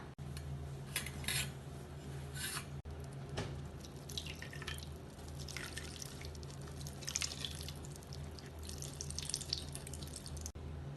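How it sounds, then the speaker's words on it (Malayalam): Homemade paneer wrapped in cotton cloth and rinsed with chilled water drips as it is squeezed by hand. Faint, irregular drips and trickles sound over a quiet, low hum, with a few soft handling knocks. "മാക്സിമം ഇതിന്റെ വെള്ളം പിഴിഞ്ഞു കളയാം."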